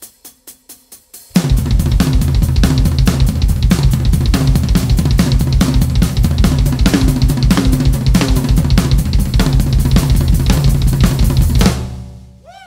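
Rock drum kit playing a fill around the toms, with hi-hat added on top, loud and continuous for about ten seconds after a few soft opening taps, ending with a ringing decay.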